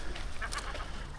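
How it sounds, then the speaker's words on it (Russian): Fat seagulls calling beside trash bins outdoors give a few short, faint squawks over steady background noise. "жирнющие чайки"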